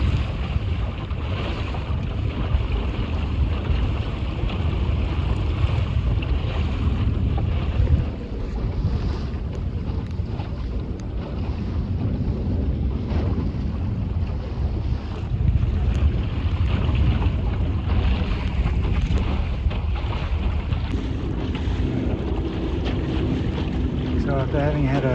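Steady rushing wind and water noise from a sailboat under way, broadband and continuous with buffeting on the microphone throughout.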